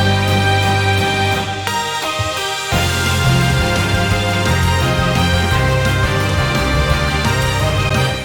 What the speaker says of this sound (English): I introduced synths for the final part of the cover